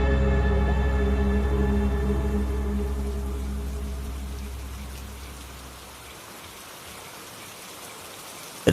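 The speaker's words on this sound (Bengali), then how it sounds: "বৃষ্টির শব্দটা যেন একটু একটু করে এক টানা সুরে রূপ নিচ্ছে।" Steady rainfall sound effect for a rural ghost story at night, a dense even patter under a low sustained droning tone that slowly fades away over the last few seconds.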